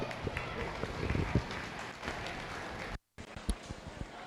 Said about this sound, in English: If you would give him a nice round of applause.